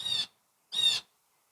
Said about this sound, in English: Pretty exciting looking bird, though, but he is noisy.